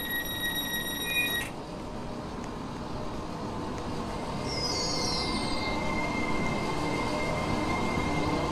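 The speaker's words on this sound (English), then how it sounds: "train now standing at platform 4 is the 1801 regional service to Freston Junction" Class 321 regional electric train in the Roblox game British Railway, a steady rumbling run with wheel noise and a brief high squeal, plus a chime near the start, continuous and fairly loud.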